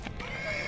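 A horse at a crowded horse market near Bishkek gives a brief whinny, close by, with faint hoof and crowd noise around it.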